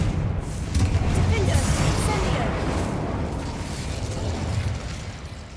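Spell blasts in the Hogwarts Legacy game, Confringo and Incendio, come as a dense run of booming bursts and rumbling explosions that stay loud through the whole stretch, with a voice calling out over them.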